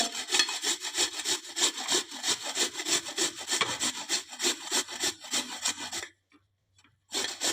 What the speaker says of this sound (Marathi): आता आपण किसनीने किसून घेऊया